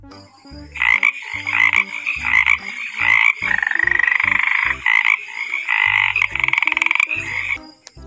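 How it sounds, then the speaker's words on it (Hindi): Frog croaking in repeated loud bursts, a rhythmic rattling call with short gaps between phrases, close and alone without any talk. "फ्रॉग"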